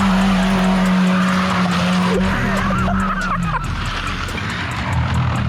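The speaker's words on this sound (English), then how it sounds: "try drift when you turn off the traction control" A front-wheel-drive 80 hp car drifts with traction control off, tires squealing and skidding in a loud wavering screech over the engine's steady drone, close by, with a few faint voices.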